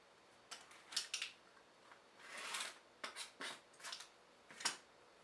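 Scissors snipping the selvage edge off quilting fabric for a Christmas stocking, a series of short, close crisp cuts and faint rustling in quick irregular bursts, quiet with no talking.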